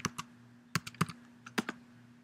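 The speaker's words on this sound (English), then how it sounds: "I'll just type in something really quick" Quick keystrokes on a computer keyboard entering a command in a Unix terminal, about eight crisp close-up clicks in two short uneven bursts over a faint steady hum, with no voices.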